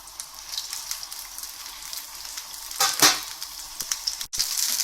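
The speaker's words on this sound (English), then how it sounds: "we need to fry it off in a pan with some oil just to get it started" Grouse browns in a pan of hot oil over high heat, giving a faint, steady crackling sizzle with scattered pops and one brief louder burst of spattering.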